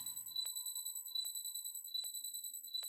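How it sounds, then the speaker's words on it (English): Terrell N6 analog synth playing a piercing, high sustained tone with pulsing repeated notes and a few sharp clicky accents, steady and alone with no voices. "This is the Terrell N6. Great sounding analog synth."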